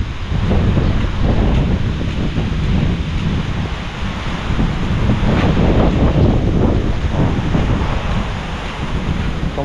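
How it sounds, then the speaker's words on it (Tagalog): Strong typhoon wind roars steadily and loudly across an outdoor fishpond setting, buffeting the microphone with dense, rumbling gusts that never let up. "Tapos hangin na naman."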